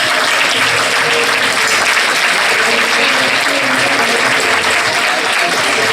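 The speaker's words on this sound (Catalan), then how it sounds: "mereixen la nostra enhorabona i un gran aplaudiment de tots els assistents" Loud, sustained applause from the assembled audience at a Valencian Fallas exaltation ceremony for the child Fallera Mayor, a thick continuous roar of many hands clapping close and evenly for the whole stretch.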